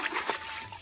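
Water from a pump channel splashes and gushes toward farm fields, a brief, close, continuous rushing spatter.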